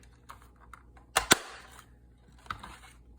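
Scissors snip through a handmade specimen card tag in two quick, close cuts, followed by a faint rustle of the paper pieces.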